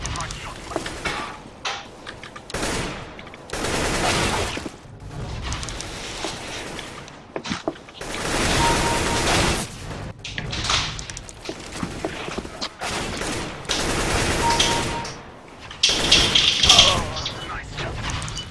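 Gunfire in a first-person shooter video game comes as repeated bursts and sharp shots with thuds between them, loud and close, alongside a voice talking over the action.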